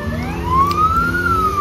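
Fire engine siren at a fire department event for children on Pag island, Croatia, a steady rising and falling wail sounding loud and close over low engine rumble, with no talk.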